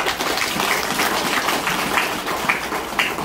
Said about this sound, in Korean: 우리 큰 박수로 한번.